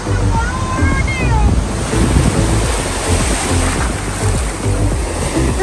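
Sea waves break and wash continuously on Puri beach before sunrise, a loud steady roar of surf with strong wind buffeting the microphone, and faint voices nearby.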